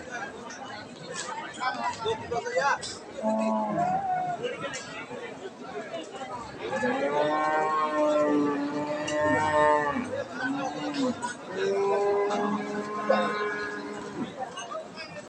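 Holstein Friesian dairy cows at a rural cattle market moo repeatedly, several long, loud calls overlapping one another, with people chattering and talking in the background throughout.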